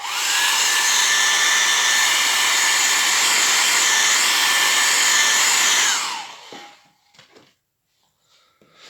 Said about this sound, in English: give it a little blast with my hairdryer